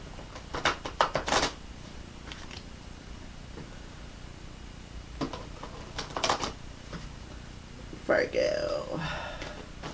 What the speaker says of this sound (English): let's go ahead and shuffle up the fairy tarot cards